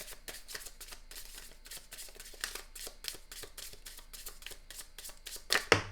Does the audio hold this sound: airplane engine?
no